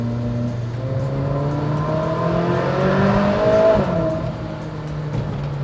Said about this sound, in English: Naturally aspirated V8, still the best sounding engine